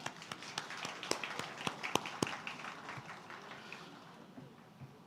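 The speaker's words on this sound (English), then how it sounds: "Can we please have a round of applause for them?" Scattered, sparse clapping from a small audience at a school election event honoring the Election Commission, quiet and distant, thinning out after a few seconds.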